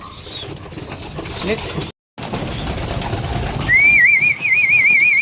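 Pigeons coo in a newly built loft beneath a person's speech, with soft bird calls early on and a loud wavering whistle-like tone near the end.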